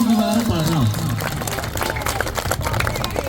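Audience clapping at a stage show with judges present, a spread of quick claps rising after a voice over music, continuing as a scattered, moderately loud patter with speech and crowd noise mixed in.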